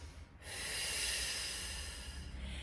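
A long, audible breath drawn in during a Pilates flow with weights, a steady airy rush lasting about two seconds, close and fairly soft, with no talking.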